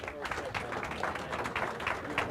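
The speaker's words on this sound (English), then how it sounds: "Another round of applause for our panel." An audience applauds a panel at the launch of a report on Pacific Island health systems. The clapping is steady and fairly soft, with a voice partly heard over it.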